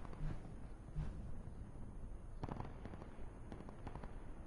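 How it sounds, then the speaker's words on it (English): Distant gunfire crackles in the video game Call of Duty Blackout, a scatter of faint, far-off shots heard as a steady background rumble with a few clustered bursts toward the end. "Gunfire in the distance."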